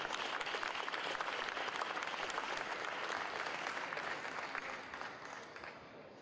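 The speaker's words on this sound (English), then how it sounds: "I want the applause to continue doing today" An audience at an agricultural expo opening applauds in a sustained, even wash of clapping that gradually softens toward the end.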